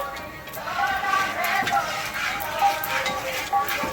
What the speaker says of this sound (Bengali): জিরে ফড়ং দিচ্ছে তেলের ওপরে জিরেটা একটু ভেজে নেবে